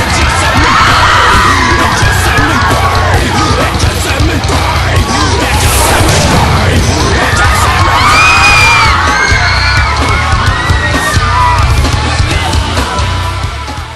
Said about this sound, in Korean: 박수가 터져 나올 만 했습니다